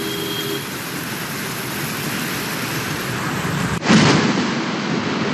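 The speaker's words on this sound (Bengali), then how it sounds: "ব্যাপক ঝড় সঙ্গে বৃষ্টি।" A heavy storm lashes Kolkata streets with rain, a dense, loud, continuous roar of downpour that jumps abruptly louder near the end.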